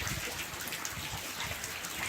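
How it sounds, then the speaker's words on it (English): Steady rain pours down on a farm in Clarinda, Iowa, on a wet October day, a continuous dense hiss of drops with nearby patter, fairly faint and uninterrupted, with no one speaking. "This is day 3 of practically non-stop rain"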